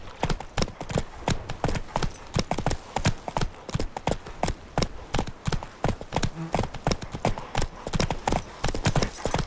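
Steady, rapid hoofbeats of a horse clip-clopping on a ride through Toussaint in The Witcher 3, loud and close with an even galloping rhythm throughout.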